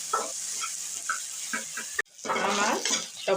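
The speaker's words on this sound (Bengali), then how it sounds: "আমি একসাথে নাড়িয়ে নেব" A utensil scrapes through crushed garlic and other fried ingredients in a pan in a few quick strokes over a soft sizzle; after a brief cut, a louder, fuller frying hiss follows.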